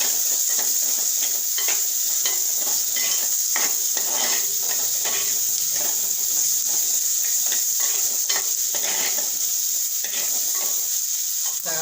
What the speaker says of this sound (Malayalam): അരിഞ്ഞ് വെച്ചിരിക്കുന്ന സവാള ഇടാം സവാള വാടാൻ വേണ്ടി അല്പം ഉപ്പിട്ട് കൊടുക്കാം